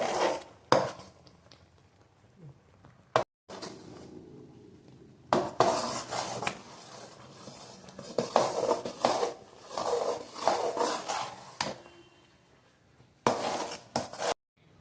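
A spoon scrapes and knocks against a pan while stirring a thick, bubbling gram flour mixture for 7-cup burfi, in intermittent bursts of clattering and rasping separated by quiet pauses.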